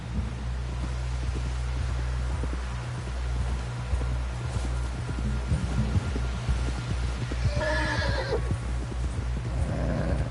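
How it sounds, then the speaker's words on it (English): A horse whinnies high and wavering in a video game, over a steady low hum and rhythmic hoofbeats, with a dense constant background throughout. "Someone help John down off this horse"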